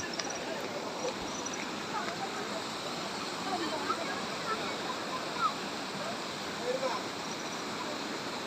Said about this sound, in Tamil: அருவியோட வியூ மலைகளுக்கு நடுவே அப்படியே பூந்து வருது இந்த அருவி.